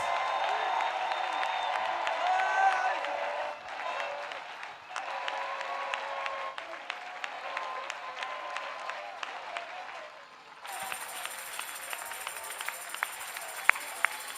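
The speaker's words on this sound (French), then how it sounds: "Let us clap for Jesus Christ" A church congregation claps steadily and rhythmically for Jesus Christ during intercession prayers, a dense sustained roomful of hand claps that briefly dips and then resumes brighter and louder.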